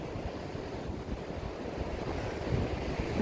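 Blustery wind buffeting the microphone along a beach, with a low rumble of surf beneath, steady and fairly strong throughout the short stretch with no voices.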